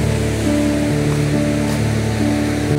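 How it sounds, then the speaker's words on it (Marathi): Surf on Chivla beach in Malvan washes in as a steady, close roar of breaking waves, with a faint sustained tonal hum running underneath and no voices. "मालवणमध्ये जे काही सुप्रसिद्ध आणि स्वच्छ समुद्र किनारे आहेत त्यापैकी हा एक आहे चिवला बीच"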